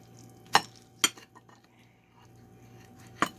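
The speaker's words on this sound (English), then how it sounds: "I'm going to cut into one of these and show you what they look like on the inside." A knife cuts into a steaming, freshly cooked stuffed bell pepper filled with rice, giving a few sharp clinks of cutlery against a dish, spaced apart with quiet between, close and clear without talk.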